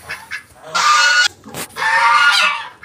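Geese on a farm give loud, close honks: a few short calls followed by two long harsh blasts, with no talk.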